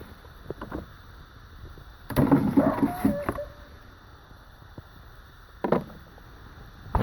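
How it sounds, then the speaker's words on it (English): Wooden washboards are lifted out of the hatch of a Core Sound 17 Mark 3 sailboat: a cluster of knocks and scrapes, then a later single clunk, close by against quiet wind. "So here's the washboards coming out."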